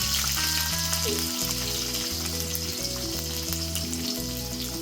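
Onions fry in a pan for noodles with a loud, continuous crackling sizzle close by, over a background of steady instrumental music.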